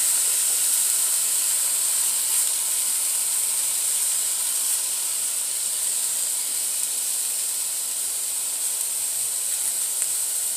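Garlic cooking in a pan: a steady, even sizzle with bright hiss that holds without a break from start to end.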